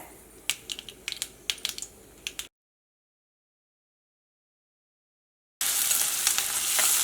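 Onions fry in hot oil with sharp crackles and pops while cooking snake gourd thoran. After a silent gap, a steady, louder sizzle takes over.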